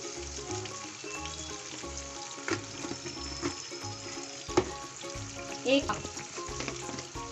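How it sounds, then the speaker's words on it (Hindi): Spice masala for a spicy tripe curry fries in a pan with a continuous close sizzle, broken by occasional stirring scrapes and spatula knocks. "ये हमारा मसाला तकरीबन बहुत अच्छा सा भून चुका है"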